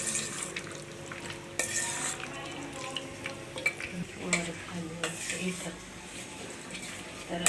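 Paneer cubes and vegetables are gently tossed in a thick tikka marinade in a bowl, giving close, irregular wet squelches and light clinks against the dish, with a voice talking over parts of it.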